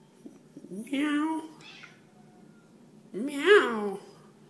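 A person imitates a cat, giving two drawn-out meows separated by a short pause, close and clear with nothing else around.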